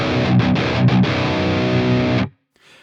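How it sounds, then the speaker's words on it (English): Heavily distorted metal guitar with its low end cut and level boosted plays a few chugging palm-muted hits, then a sustained chord, before stopping abruptly into near silence. "here's that same low cut, but level boosted up to match the input"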